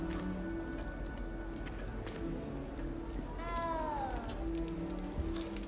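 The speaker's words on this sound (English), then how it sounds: "There's a cat meowing somewhere, but I have no idea where." A cat in the Hogwarts Legacy video game gives one short, faint meow midway through, under a steady ambient background with soft footsteps.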